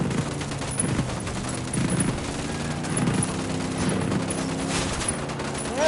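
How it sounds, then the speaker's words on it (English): Sustained automatic gunfire from a firefight against Santa Blanca cartel soldiers in a tactical shooter game, with dense, continuous bursts of rifle fire layered over a steady rumble of combat, mostly close and loud without spoken words. "I'm opening fire on these shitheads."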